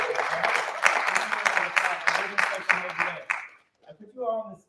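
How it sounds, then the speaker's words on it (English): An audience applauds a jazz reading band with a few seconds of full, bright clapping that fades out, followed by a voice speaking briefly. "give them a round of applause"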